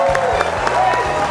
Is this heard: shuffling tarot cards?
no